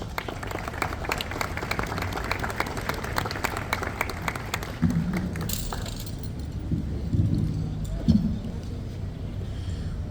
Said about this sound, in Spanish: a quien la recibimos con aplausos